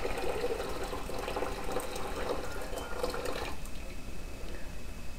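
Hot water is poured steadily into a pressure canner for vegetable stock, a soft, close splashing fill that runs for a few seconds and then quiets.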